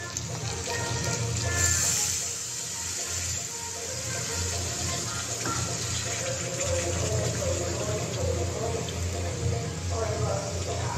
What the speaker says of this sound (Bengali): এই অবস্থায় আমি পরিমাণ মতো জল দিয়ে দিচ্ছি।